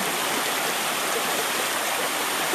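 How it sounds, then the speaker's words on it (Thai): Than Thong waterfall in Khiri Rat Nikhom, Surat Thani, rushes in a dense, steady roar of falling water, loud and close without pause, with no talking. "น้ำตกทานทองนะครับอำเภอคีรีรัตนิคมจังหวัดสุราษฎร์ธานีครับ"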